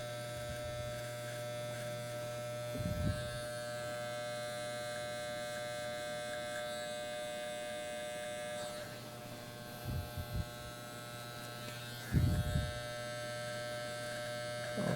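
An electric hair clipper shaves up the sides of a man's head during a side-part haircut, its close, constant buzzing hum broken by a few short bursts as the blades work through the hair.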